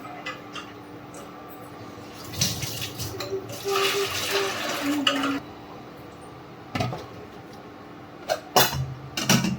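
Onions and tomatoes are rinsed under running tap water in a kitchen, with a close splashing stream, clinking dishes and brief knocks, while someone speaks Hindi now and then.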